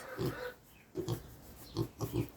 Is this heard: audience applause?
no